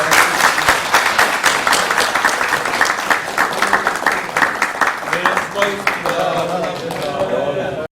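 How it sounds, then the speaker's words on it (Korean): Audience applause fills the opening ceremony of a border-region farmers' forum, steady dense clapping throughout that thins slightly near the end, with some voices mixed in. "자, 박수 칠 수 있나요?"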